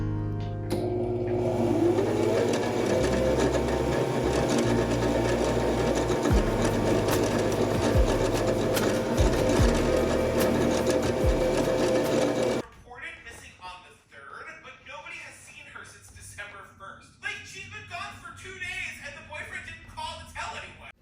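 A sewing machine hems curtain panels for a guest bedroom makeover, running fast and steady for about twelve seconds, loud and close, then it stops and a person talks over quiet handling noises.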